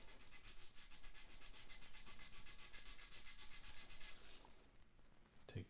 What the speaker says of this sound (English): I'm going to do just the middle by sanding